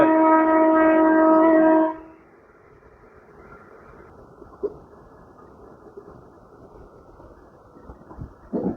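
A MEMU local train on the Bhimavaram to Machilipatnam line gives a loud, sustained horn blast for about two seconds, then settles into a quiet, steady running rumble with a few soft knocks.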